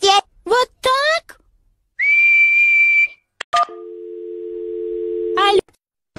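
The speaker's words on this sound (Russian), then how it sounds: "Ты умеешь свистеть" A person whistles one sustained steady note, then a second lower held tone, between short bursts of talking.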